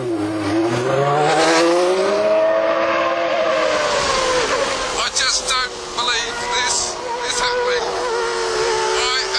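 A Ferrari Formula One car revs hard and pulls away, its high, rising engine whine sweeping upward and fading into broken roaring bursts with gear changes.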